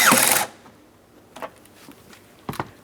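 Phillips-head screwdriver driving two mounting screws into a rear temperature control blend door actuator on a 2008-2016 Chrysler, heard as a loud whirring burst followed by two short, quieter bursts.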